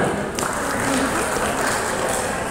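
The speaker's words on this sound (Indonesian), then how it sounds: "Tepuk tangan ya." Audience applause at a farewell gathering for a kindergarten supervisor, a short steady patter of clapping throughout with a faint voice underneath.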